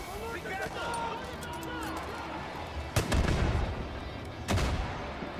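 Gunfire and explosions sound in the Far Cry 5 video game, two heavy booming blasts landing over a continuous noisy backdrop of game action, with a person talking throughout.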